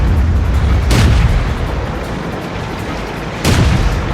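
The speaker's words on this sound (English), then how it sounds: "I'm going to bet we're going to see a friendly arty shell land somewhere nearby" Deep rumbling artillery booms in World of Tanks, friendly shell impacts landing nearby: two heavy blasts a couple of seconds apart over a constant loud low battle roar.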